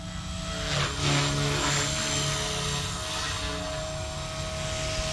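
A Blade Fusion 180 SMART radio-controlled helicopter flies outdoors over a residential neighborhood, giving a loud, steady whine of its rotor and motor with a high tonal hum that swells briefly early on and then holds steady.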